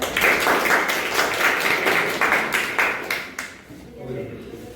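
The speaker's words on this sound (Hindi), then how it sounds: "ताली भी बजाओ।" A group of people gathered at a Bihar Police selection celebration clap together in a loose, uneven burst, with voices and chatter underneath before the clapping dies away.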